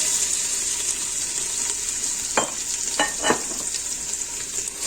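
Onions frying in olive oil in a hot casserole pot, giving a loud continuous hiss and sizzle with a few sharp stirring clatters near the middle, with no voices.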